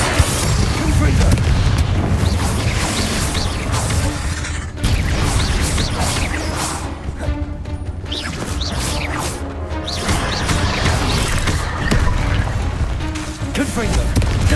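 Spell combat in Hogwarts Legacy, with Confringo and other spells cast in quick succession, bursting as dense booms, crashes and impacts over a continuous loud game soundtrack, with a voice calling out spell names throughout.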